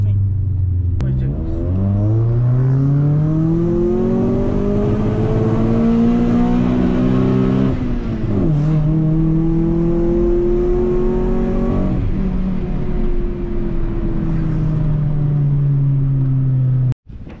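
A tuned Mitsubishi Lancer GSR with a 4G92 DOHC MIVEC engine revs loud and close, climbing and holding at high RPM in long sustained pulls, dipping briefly, then revving again before cutting off abruptly.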